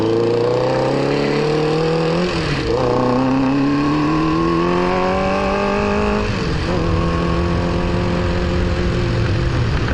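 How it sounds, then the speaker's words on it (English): A Honda VFR motorcycle, long unused and with blown suspension, accelerating hard on the road, loud rising engine tone that drops at each gear change and climbs again, heard close from the rider's seat. "I'm riding with Jeremy on his Honda VFR."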